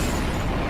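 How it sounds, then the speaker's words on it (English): A broadband explosion sound effect in a D&D tabletop campaign, likened to a lightning strike inside a shop: a dense, loud, sustained roaring rumble with no clear onset, heard alone. "you hear a gigantic explosion from inside of the shop as if lightning had just struck"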